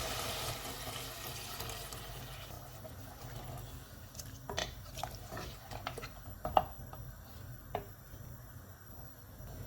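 About 1.5 cups of water pours and splashes steadily into a pot of browned mutton for biryani, with a few sharp clinks and drips over a low background hum.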